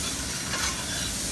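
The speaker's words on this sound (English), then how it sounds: "Get this stirred around. Onion's already starting to caramelize a little bit." Onions and beef tips fry and sizzle steadily in a pan while being stirred, a continuous close hiss with scraping texture throughout and no voices.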